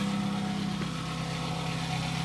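A Hyundai Coupe 2.0 engine idles just after an oil change, a steady, close mechanical hum with a constant low tone and no talking.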